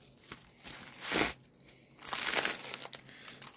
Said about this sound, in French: Je remets bien le film plastique.